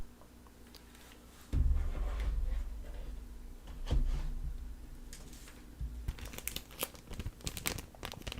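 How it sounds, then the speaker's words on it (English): Crinkly plastic container holding a cleaning cloth from a Steam Deck unboxing, handled up close with soft rustles, a sudden louder crumple, then sharp crackling bursts near the end. "Which comes in a crinkly little container here"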